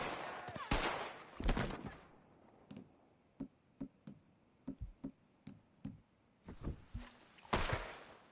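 Gunfire in the Red Dead Redemption 2 video game: a loud burst of shots, then a string of about a dozen separate sharp gun cracks spaced irregularly, ending in another heavy volley, with no talk.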